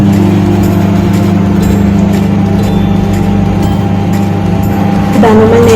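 A microwave oven roasts groundnuts with a steady, close electrical hum that has a droning low tone. The pitch wavers briefly just before the end.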